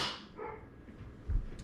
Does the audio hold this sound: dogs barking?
yes